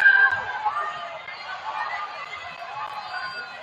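A crowd at a high school boys' varsity basketball game, Hamilton versus Badin, with steady chatter and shouting from many voices filling the gym.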